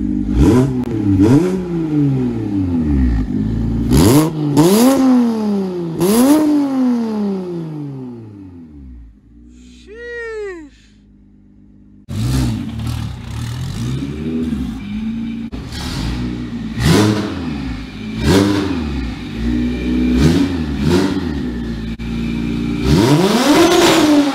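A single-turbo BMW 335i engine revs repeatedly, each rise and fall in pitch close by and loud, with a short lull of quieter idling midway before revving resumes.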